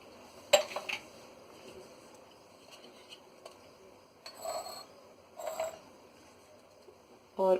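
Glasses and dishes clink in a kitchen as freshly made Punjabi lassi is poured into two glasses. A few sharp clinks stand apart, with soft liquid and handling sounds between them, and no talk.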